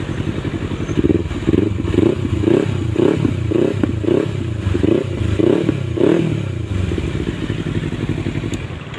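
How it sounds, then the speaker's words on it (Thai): A 2017 Kawasaki Z300 ABS motorcycle engine revving repeatedly in steady bursts, loud and close, with a rough idling rumble between the revs. "ดี๋ยวลองมาฟังเสียงเบิ้ลกันครับ"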